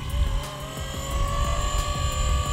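A Blade 230 S Smart RC helicopter flies nearby, its rotors and motor giving a steady, continuous whir with a constant low drone and a faint high tone, with no break for the whole span.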